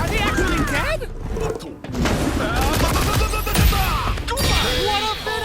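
Street Fighter 6 critical art super move effects burst out as loud crashes, booming hits and rapid gunfire-like impacts layered with swooshes, while excited commentary talks over the action.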